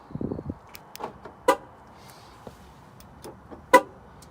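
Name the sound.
Mercedes car alarm sounding falsely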